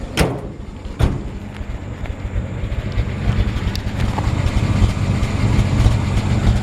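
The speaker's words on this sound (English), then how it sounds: "Leave the engine running here for a second." A 1949 Chevy 3100 pickup truck engine on a 6-volt system idles with a low, steady rumble throughout and a rough, even throb, interrupted by a couple of sharp clicks near the start.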